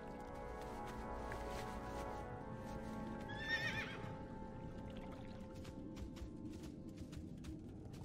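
A horse mount in World of Warcraft, ridden through the Plaguelands toward Light's Hope: steady clip-clop hoofbeats with a brief whinny in the middle, over a low ambient game background.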